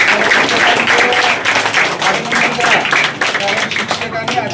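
An audience applauds school teachers at a school-supplies distribution event at a municipal school, a dense burst of clapping that fills the space at close range with voices mixed in.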